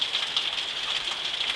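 Heavy rain at dawn falls in a steady, dense hiss, loud and close, with no talk and no break in the downpour.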